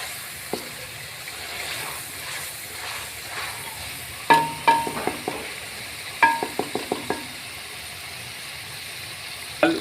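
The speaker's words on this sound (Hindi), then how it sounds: "और दही को अच्छे तरीके से आपने पकाना है" Yogurt cooking in a pan for dal chana, a quiet low sizzle under a spoon stirring, with sharp clusters of metallic taps and knocks against the pan rim.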